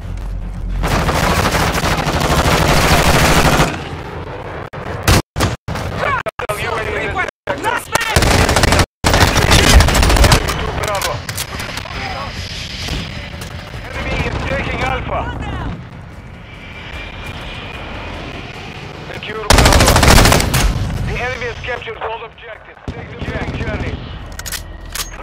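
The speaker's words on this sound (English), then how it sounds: "Stop shooting at me!" Gunfire in the Call of Duty Modern Warfare video game, with bursts of automatic fire and sharp shots amid aircraft engine roar and battle noise, under frequent shouted radio callouts and voices throughout.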